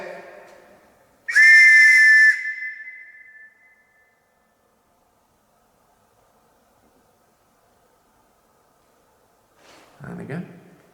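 A police whistle gives one loud, shrill blast lasting about a second inside the old Shepton Mallet Prison, then near silence follows before muffled voices return at the end.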